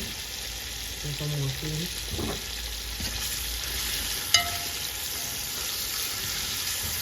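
Ackee and chicken back fry in a pan for a Jamaican dish, a steady soft sizzle throughout with a brief stir near the start and one sharp clink of a utensil partway through, with a short spoken remark.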